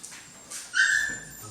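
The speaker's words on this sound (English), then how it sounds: "So these are phenomenal dogs out of Karoo. These are Karoo and Luna" Norwegian Elkhound pups and their mother whimper and let out thin, high yips, a few short cries rising into a louder squeal in the middle, close by with no talking.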